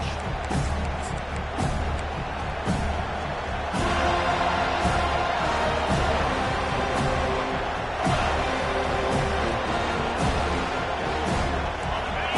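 Stadium crowd at a college football game roars steadily through the opening kickoff, a dense, loud wash of cheering with occasional sharper shouts and bursts, a commentator's voice riding over it.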